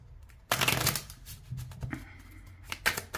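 Tarot cards cut and shuffled by hand, with a loud burst of riffling followed by softer shuffling slaps and flicks, close up with no speech.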